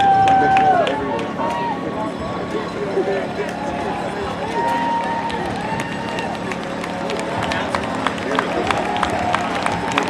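Spectators cheering and clapping for runners crossing the finish line of the Covered Bridges Half Marathon in Vermont, with footsteps and scattered claps under an announcer's voice talking over a PA.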